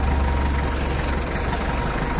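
Shibaura D335 tractor fitted with a front loader runs its diesel engine at a steady idle, a loud close-up drone with a low throbbing pulse and no talking.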